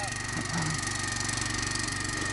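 Champion outboard motor on a river boat running steadily at a fixed pitch, a continuous drone with a regular pulsing throb throughout.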